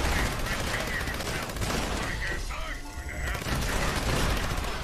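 Dense gunfire fills a Fallout 76 firefight, a loud, continuous clatter of shots with a brief dip midway before the rapid firing resumes.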